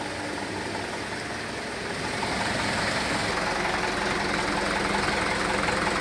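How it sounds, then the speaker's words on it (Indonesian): A vehicle engine idles continuously at close range with a low, knocking rumble and steady vibration while its battery runs weak. The sound holds steady throughout with no talking. "ini mesinnya saya hidupin terus ya"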